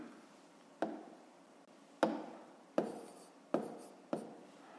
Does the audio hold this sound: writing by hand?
yes